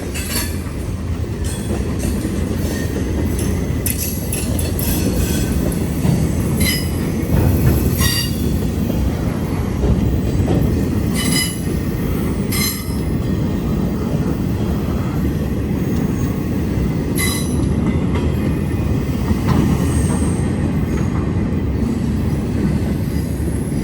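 A train rolls past on a still-active Norfolk Southern line, a continuous loud rumble of wagons with repeated metallic wheel squeals and faint clickety-clack throughout, no voices.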